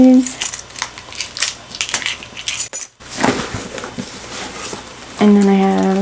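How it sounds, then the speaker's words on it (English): A set of keys jingles and clinks as they are handled, scattered metallic rattles close by that come in irregular bursts, with a brief pause before a tonal sound at the end. "I'm going to have my keys"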